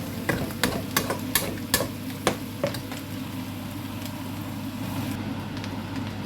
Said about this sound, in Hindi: इसके अंदर 4 एग्स डाले हैं, तो इसका थोड़ा सा स्क्रम्बल्ड बनाते हैं